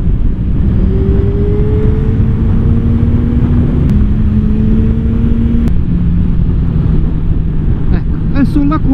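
A car rounds a curve on a mountain road in the Val Chisone and Val di Susa valleys of the Italian Alps, its engine a steady, fairly loud drone that shifts pitch twice as the gears change.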